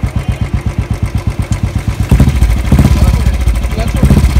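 A Royal Enfield motorcycle engine thumps in a steady, even rhythm at idle, then grows louder and denser as it runs in first gear, close and continuous with no talking.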